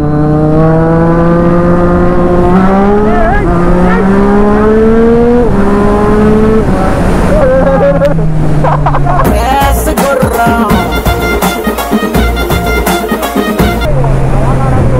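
A BMW motorcycle engine revs hard at full power, loud and close, its pitch climbing and falling in repeated surges while voices talk over it.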